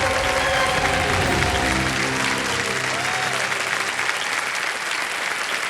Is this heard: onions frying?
no